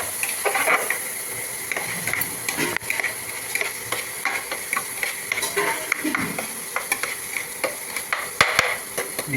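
Frying in ghee for prawn biryani: a hissing sizzle under repeated scraping stirs of a spoon in the pot, fairly close and steady throughout.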